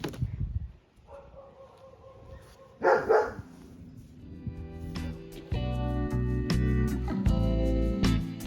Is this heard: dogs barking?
yes